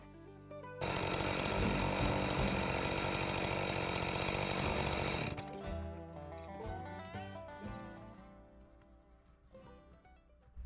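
A chainsaw roars loud and steady through hardwood maple for about four and a half seconds, then cuts off after striking a nail, followed by scattered clunks and knocks.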